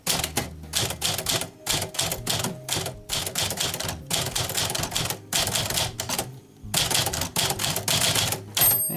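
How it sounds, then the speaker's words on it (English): Keys clack rapidly on a Smith Corona manual typewriter in bursts of typing with short pauses, close and loud, and the margin bell may ding at the end of a line. "there's a little bell inside this machine that dings when you reach the end of the margins that you set"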